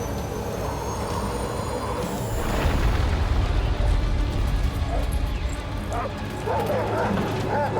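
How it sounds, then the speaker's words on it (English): Several dogs barking in the video game Death Stranding 2, a loud cluster of barks and yips over a rumbling game soundscape, with someone talking throughout. "That's a lot of dogs."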